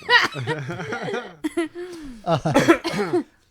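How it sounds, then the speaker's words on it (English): A person coughs close by in a radio show setting, with short bursts mixed among chuckling and voiced sounds. "But now I'm coughing."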